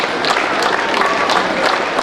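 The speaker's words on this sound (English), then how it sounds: "Give him a huge round of applause." A crowd at a school science and art exhibition claps steadily and loudly, dense overlapping applause with a few sharper bursts throughout.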